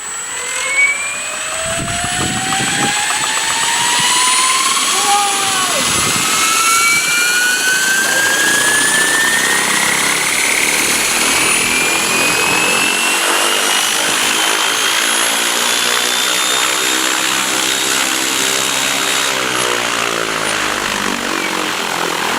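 Align Trex 700 RC helicopter running with its rotors spun up to full flight revs, a loud, steady, high-pitched whine that rises at first and then holds, close by and with no talk.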